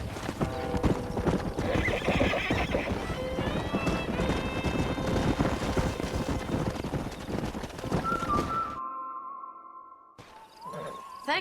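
Horse in the Western video game Red Dead Redemption clip-clopping at a steady trot, with whinnies and neighs over it, then a sudden cut to near silence and a brief tonal game sound.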